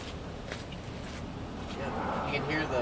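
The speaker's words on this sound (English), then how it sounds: "you can hear the trees back there." Storm wind gusting through trees during tornado-season storm chasing in Mississippi: a steady broadband roar that swells louder toward the end, with no voices.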